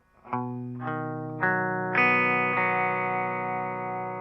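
An electric guitar on its bridge pickup picks out a C-chord arpeggio, five notes struck one after another and left ringing together, clean and close with chorus-like shimmer.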